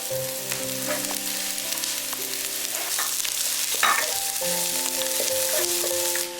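Chinese sausage and chopped onion are stir-fried in a pan for a siu mai filling, a steady, close sizzle running beneath background music with no talking.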